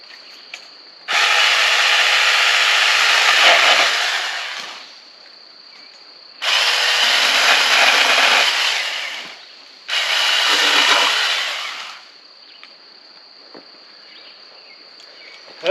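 Wild Badger 40V cordless weed wacker trimming grass in three loud bursts of steady high-pitched whirring, each lasting a few seconds with quieter pauses between.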